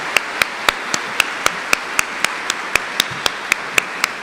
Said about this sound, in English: Can we just give Abigail another round of applause